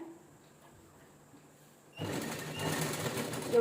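Sewing machine stitching a jeans-style top cut from a saree, starting up after a quiet pause and running steadily with a close, whirring mechanical drone.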